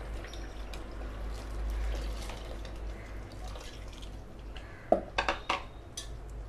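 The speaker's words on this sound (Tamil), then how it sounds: "இப்போ தண்ணி கொஞ்சம் ஊற்றிட்டு நல்லா கொதிக்க வச்சுக்கலாம்" Water poured into a pan of simmering Tamil tomato gravy (thakkali kulambu) thickened with roasted gram: a low steady stove rumble, then a short burst of splashing pours and metallic clinks near the end.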